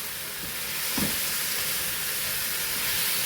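Chicken with green chillies fried in turmeric in a pan gives a steady, even hiss and sizzle throughout, with a single soft knock near the start.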